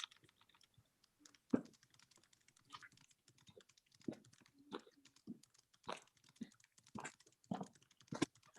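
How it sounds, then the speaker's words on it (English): Fast typing on a computer keyboard, quiet irregular bursts of clicking keystrokes heard close up with brief pauses between flurries. "Typing fast."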